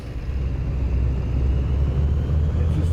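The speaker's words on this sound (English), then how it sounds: "It's the truck sound." A truck engine in Euro Truck Simulator 2 drones steadily with a low, constant rumble and faint road noise, loud and unbroken for a few seconds.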